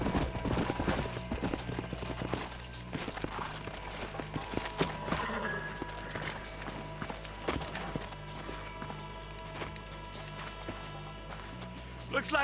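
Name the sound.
horses' hooves clip-clopping, from video game Red Dead Redemption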